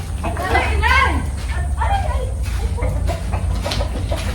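Hens cluck close by in short bursts while people talk over them.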